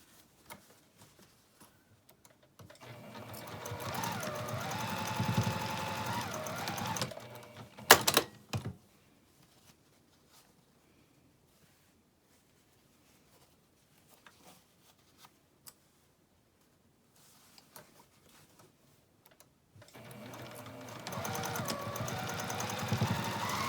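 Sewing machine stitching the seams of a fabric pixie basket, running in two sustained bursts separated by a quiet pause with a few faint clicks and a brief sharp clatter near the middle.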